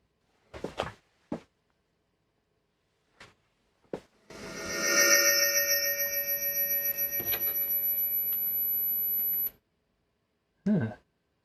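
A Samsung TV plays its startup chime through a One Connect box: a bright, sustained tonal sound with layered harmonic notes lasting about five seconds, preceded and followed by a few brief clicks and knocks in an otherwise quiet room.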